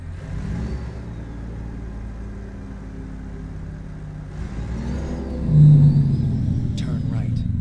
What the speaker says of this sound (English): Listen to this engine as we travel to collect our cargo.